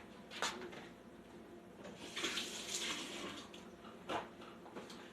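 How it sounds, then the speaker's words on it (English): Tap water runs in a home kitchen sink while hands are rinsed under it during cooking, a soft steady splash with a few louder bursts as the hands move through the stream. "Let me rinse my hands off."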